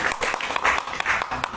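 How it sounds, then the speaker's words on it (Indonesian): An audience at a business meeting gives a short burst of hand clapping, fairly quiet and uneven, lasting under two seconds. "Tepuk tangan buat Pak Sodik."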